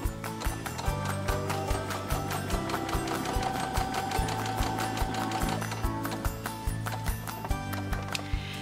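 A sewing machine runs at a steady, fast rhythmic clatter close by, its needle thumping evenly throughout.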